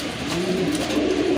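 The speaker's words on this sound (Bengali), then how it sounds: "কবুতর মাশাআল্লাহ, খুবই সুন্দর একটা পেয়ার" A fancy pigeon from a pair offered for sale, one silver and one chocolate, gives a single close, throaty coo that rolls on for a moment and then cuts off abruptly.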